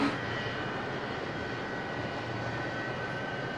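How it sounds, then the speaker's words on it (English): Left and right jet engines of a Boeing 777 running on the ground during its 1994 first flight preparations, a loud steady roar that holds evenly throughout. "we've got left and right engine started"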